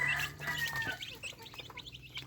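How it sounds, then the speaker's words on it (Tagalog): Newly hatched chicks, about thirty together, give quiet, rapid high-pitched peeps, several overlapping chirps close by, fading into softer scattered cheeps. "Ating mga sisiw."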